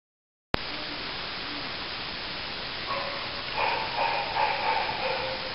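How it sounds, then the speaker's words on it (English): A dog barks in Thickson's Woods at night, a handful of faint, distant barks coming in after a burst of steady hiss. "Naturally, the dog starts."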